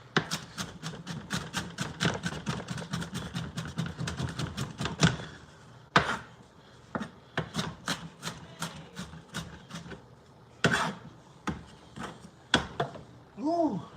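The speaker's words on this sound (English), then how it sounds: "you just bring it back together and you keep cutting" A knife chops a fresh, strong onion on a cutting board. A rapid run of close, sharp strikes gives way to slower, spaced cuts, with someone talking underneath.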